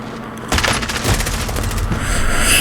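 Rapid bursts of automatic gunfire in the Warzone video game as a kill is finished, a dense, steady rattle of shots that starts abruptly and carries on loudly to the end.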